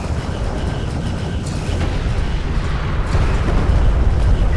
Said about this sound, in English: One of our turrets is taking fire.